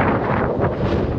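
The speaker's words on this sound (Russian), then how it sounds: "Ох, а здесь ветер-то какой" Strong wind on a snowy riverside hill above the Yenisei in Divnogorsk buffets the microphone in a loud, roaring, gusting rush with no voices.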